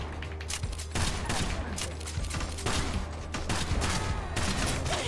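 Sniper gunshots crack in the video game Kill the Crows as a series of sharp, loud bursts scattered over a busy, rumbling background of game noise.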